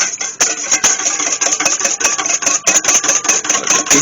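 One large egg whisked in a bowl for old-fashioned bran bread: a rapid, steady rattling clatter of the whisk against the bowl, close and continuous, with no one talking.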